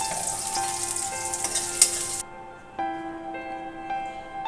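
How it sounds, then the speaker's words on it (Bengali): Two medium chopped onions sizzle in a pan for a fish curry while a spoon stirs them, with a few clicks. After about two seconds the sizzle cuts off abruptly and sustained musical tones continue alone. "2 মাঝারি সাইজের পেঁয়াজ কুচি দিয়ে কিছুক্ষণ সময়ের জন্য ভালো করে নেড়ে চেড়ে কুক"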